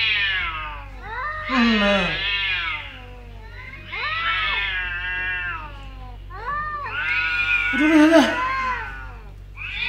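Two cats yowl and caterwaul at each other in long, rising and falling wails, close and loud, with a brief spoken word in between.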